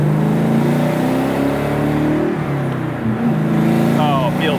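A supercharged 2003 Ford Cobra engine pulls hard while merging onto a highway, a loud, close, continuous roar with a rising whine, heard from inside the car with a voice speaking.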